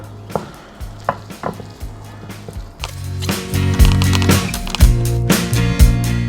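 Beef chapli kebab batter with cornstarch being mixed in a bowl: a few irregular knocks and clicks at first, then louder, busier wet churning and clattering, with no one talking.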